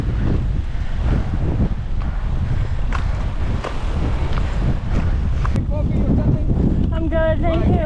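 Strong gusts during a bike race roar and buffet against the microphone in a constant, heavy rumble, with faint voices underneath.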